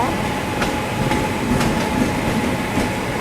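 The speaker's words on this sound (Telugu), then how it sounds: "ఈ లోకోమోటివ్ అండి 7000 HP లోకోమోటివ్ అనమాట." West Coast Express passenger train hauled by a 7000 HP locomotive, a continuous loud rumble of rolling wheels with faint rhythmic clicks over rail joints, heard from on board.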